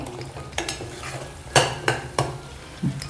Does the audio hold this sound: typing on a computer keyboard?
no